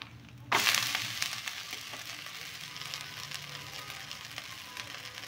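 Rava dosa sizzling on a hot pan after being flipped, a sudden burst of frying at the start that settles into a steady, moderately loud crackle with no talking.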